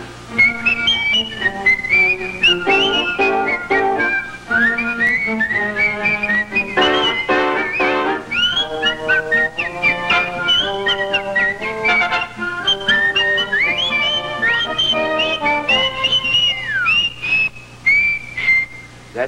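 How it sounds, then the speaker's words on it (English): A man whistles a bright, lilting show tune on a variety-show stage, a continuous melodic line with quick ornamented runs and bouncing phrases, loud and clear with faint music beneath. "When they're sorely pressed, they whistle for a spell."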